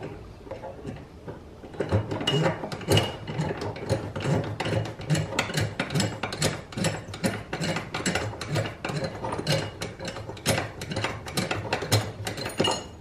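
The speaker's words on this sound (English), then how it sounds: "Let's get the lock nut off." A lock nut being loosened on the brake of a Club Car Precedent golf cart, heard as a rapid, steady run of close mechanical clicks from a ratchet wrench lasting most of the clip after a quiet start.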